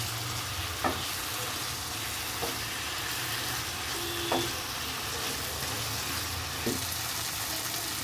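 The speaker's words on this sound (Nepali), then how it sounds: "म 5 मिनट जति भुट्छु अनि यसमा म हल्का पानी हाल्छु।" Spices for a fried chicken curry sizzle steadily in a pan at low volume, with a few faint clicks of stirring spaced through the continuous frying hiss.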